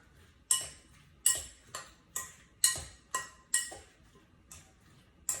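Tossing a Thai watermelon salad with its dressing produces about nine crisp clinks of utensils against a bowl. They come at an uneven, unhurried pace and are close and clear, with no voices.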